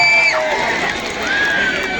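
A crowd cheers and shouts at a live stage show at the Devchuli festival, a loud continuous wash of voices with a few whistles rising above it.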